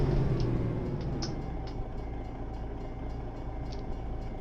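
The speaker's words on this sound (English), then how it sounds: "you can hear the train there in the background" A low, steady rumble of a train in the video game American Truck Simulator rolls along in the background, with faint rhythmic clacks and occasional higher squeaks.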